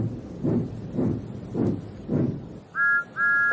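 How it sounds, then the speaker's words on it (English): Two clear whistle blasts, a short one then a longer one, following a series of rhythmic low chugging puffs from a steam train. "Then he heard a whistle."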